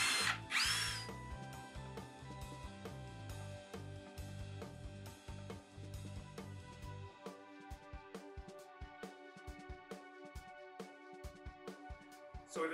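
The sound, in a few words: screwing wall bracket into plywood wall with power drill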